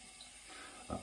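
Water runs briefly from a tap as it is added to a shaving soap lather, a faint trickle ending in a short, slightly louder splash.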